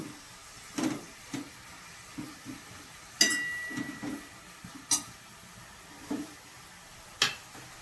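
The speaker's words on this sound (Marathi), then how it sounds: "हिला आपण नुसते आता तेलामध्ये छान शिजवून घेऊ" Spinach cooking in hot oil for palak paneer, a soft steady sizzle under a series of sharp close taps and scrapes of a utensil stirring in the pan, roughly one every second, with no voices.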